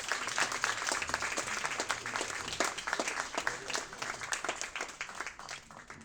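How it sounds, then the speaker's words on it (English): A graduation audience gives a big round of applause, dense clapping from many hands that holds strong and then tapers slightly toward the end. "So can we give a big round of applause?"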